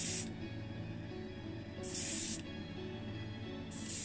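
Spray paint hisses in two bursts onto the taped-off roof of a Matchbox Ford Anglia model car as it is painted white, each burst loud and close. A steady hum continues beneath and between them.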